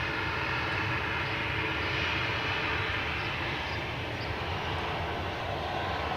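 Boeing 737-900 jet airliner of United at Boston Logan Airport, a steady, loud broadband engine roar that holds constant throughout with no speech.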